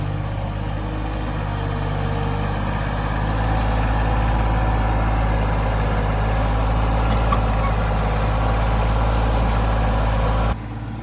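A John Deere sub compact tractor pushes dirt, its diesel engine running steadily with a continuous low, close-up drone that cuts out near the end.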